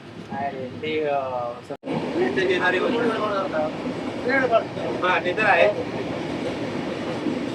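Konkan Railway's Mandovi Express, a stopping train running from Panvel to Sawantwadi, rumbles steadily along the track as heard from inside a coach, with people talking loudly over the continuous rolling noise.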